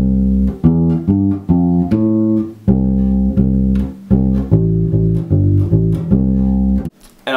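Solo bass guitar plays a section of a song, two short phrases joined together, with a steady run of punchy plucked notes and brief gaps between phrases, loud and close, no voices.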